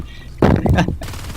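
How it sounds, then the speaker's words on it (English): Marines fire at an alien hive in Natural Selection 2, a dense burst of gunfire at close range that swells for about half a second and then fades into lingering game noise. "The Marines can actually shoot at this hive all the way from this platform down to the hive"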